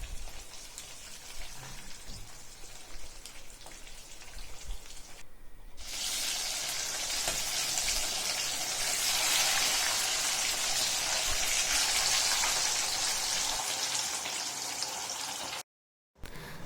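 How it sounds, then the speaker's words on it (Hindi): Fish frying in hot oil in a pan while making a Chhattisgarhi fish curry: a steady, dense rain-like sizzle that swells and grows louder partway through, continuous with no talking. "हमने सारे फ़िश को फ्राई कर लिया है।"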